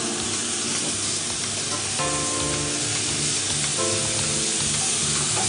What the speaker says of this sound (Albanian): Ndërkohë që mishi ka marrë një skuqje të lehtë